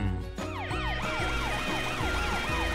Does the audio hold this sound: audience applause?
no